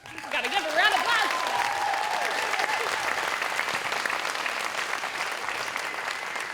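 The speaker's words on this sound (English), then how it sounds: "We've got to give a round of applause." An audience at a Stanford women's volleyball retirement party bursts into sustained clapping, loud and close, with a few high cheers and whoops rising early before the applause settles into a steady patter.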